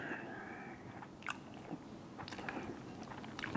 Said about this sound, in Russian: Я думаю, конинку еще съем, и мы, наверное, завершим, но еще чуть-чуть почавкаем